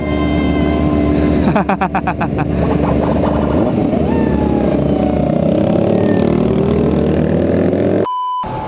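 A motorcycle engine revs loudly and steadily in Senayan, Jakarta, with a brief rattling burst and a faint siren-like tone rising over the constant roar.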